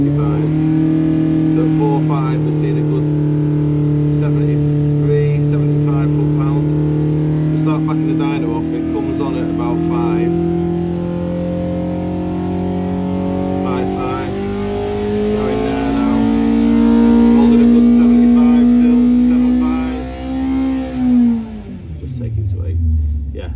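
A car engine fitted with a BJ 65 cam runs on a dyno during a rear radiator test, humming steadily, then building through a long, rising rev before winding down sharply near the end.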